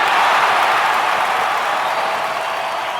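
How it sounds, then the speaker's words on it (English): A large crowd roars in a sustained, loud wash of cheering at a basketball game, steady and unbroken throughout, with no one speaking over it. "Man, listen to that crowd."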